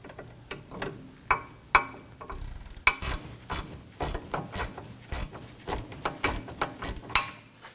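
A ratchet drives a 5mm Allen key on a rear sway bar end link of a 2018-2024 Toyota Camry, giving rapid close clicking in uneven bursts, each stroke a quick run of pawl ticks.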